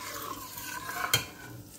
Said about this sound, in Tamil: Keep stirring.